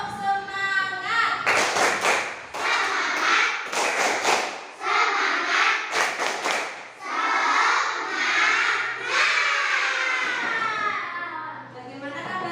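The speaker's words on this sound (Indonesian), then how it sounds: "Tepuk semangat." Children in a morning classroom greeting clap out a rhythmic spirit cheer, several quick bursts of clapping and thumps between shouted chanting voices, close and lively.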